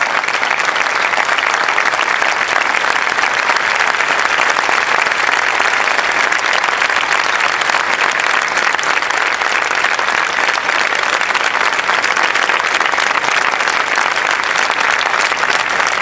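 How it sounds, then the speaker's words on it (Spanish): A large outdoor crowd at a memorial rally in Plaza de Mayo applauds for the families of the Once rail tragedy victims, with loud, sustained, dense clapping throughout and no pause. "Y es un aplauso para los familiares que están aquí sobre el escenario"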